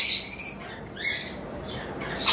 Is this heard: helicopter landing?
no